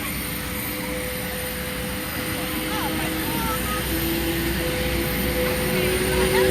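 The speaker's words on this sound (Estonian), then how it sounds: "nüüd läks veel propellerid tööle" Large Luftwaffe propeller aircraft at Porto airport with its propellers spinning up, a continuous loud engine drone with steady hum that slowly builds, heard from nearby on the apron.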